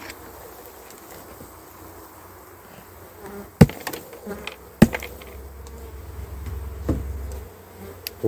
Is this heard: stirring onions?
no